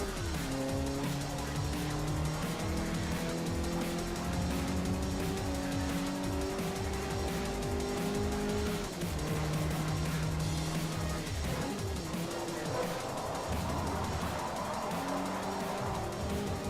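A Toyota MR2 drifts around a corner in Forza 4. The engine revs loud and continuously, and the tires squeal and skid through the turn.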